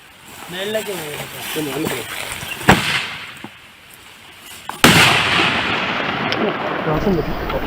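Two sharp firecracker bangs ring out outdoors, set off to drive away wild elephants, a louder burst followed by a sustained crackling roar, with a voice calling out beforehand.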